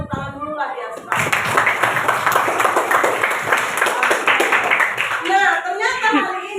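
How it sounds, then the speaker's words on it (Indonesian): Children in a classroom break into lively clapping that swells and holds for several seconds, many hands at once, with a voice talking before it starts and children's voices as it fades. "Kalau mau tahu banget, kita tepuk tangan dulu lah ya sekarang."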